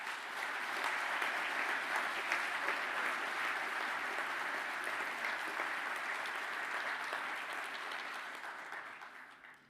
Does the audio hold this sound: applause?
yes